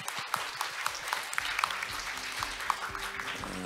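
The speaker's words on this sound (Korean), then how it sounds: "오늘 두 분의 건설적인 발표와 토론을 해주신 모든 분들께 뜨거운 박수 좀" Audience applause closing a youth forum session in Jeju, a soft, continuous wash of many hands clapping at moderate distance, fairly even throughout with no voices.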